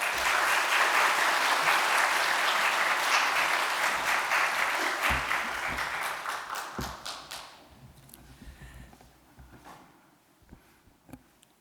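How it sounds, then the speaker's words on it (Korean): A church congregation at a Sunday worship service applauds a pastor coming forward, loud sustained clapping that gradually thins and fades, ending with a few scattered individual claps. "큰 박수로 맞이해 주시면 감사하겠습니다."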